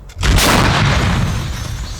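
A single loud L119 artillery cannon shot, a sharp boom that rolls into a long, rumbling echo across open ground.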